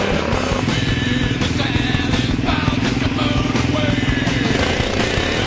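A Yamaha Grizzly 700 FI 4x4 ATV with the genuine Yamaha accessory exhaust makes a 1/8 mile drag run, its engine holding a steady, buzzing drone throughout at moderate distance.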